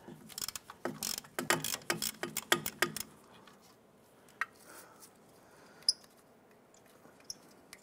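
A ratchet loosens a bolt on a spring clamp of a 1997–2006 Jeep Wrangler with a quick burst of sharp clicking strokes. A few isolated metallic taps and clinks follow in near quiet.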